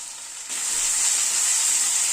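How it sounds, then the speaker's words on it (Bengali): Ginger and green chilli paste sizzling with onions in a pan for a rohu fish curry, a quiet hiss that swells into a loud, steady, close sizzle. "পেঁয়াজের সাথে একটু আদা আর কাঁচা লঙ্কাটাকে নাড়াচাড়া করে নিচ্ছি।"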